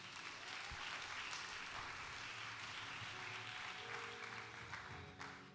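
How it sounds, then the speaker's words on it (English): A church congregation claps during a sermon, a sustained wash of many hands applauding together, fairly faint and distant, with a murmur of voices and an organ tone underneath. "If you want to clap, clap."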